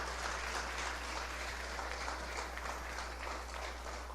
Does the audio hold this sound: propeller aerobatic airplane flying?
no